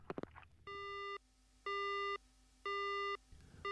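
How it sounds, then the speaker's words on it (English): Phone line tones from the horror game Death Mark: three evenly spaced electronic busy-signal beeps, each about half a second long, clean and steady after a brief crackle, with no talking. "There are noises coming from the phone, like someone stuffing their cheeks with gum."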